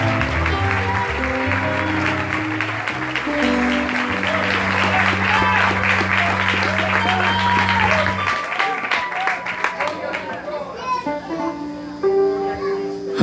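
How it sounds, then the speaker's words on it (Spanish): A congregation at an evangelistic service in San Miguel, El Salvador, claps loudly over sustained keyboard-like music, with voices mixed in; the music drops out partway and the clapping continues more raggedly. "den un aplauso fuerte a los que me toman un poco lejos."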